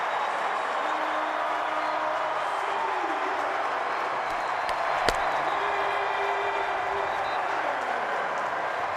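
A stadium crowd at an XFL football game cheers after a touchdown in Seattle, a broad steady roar of voices and applause that fills the background while a commentator talks over it.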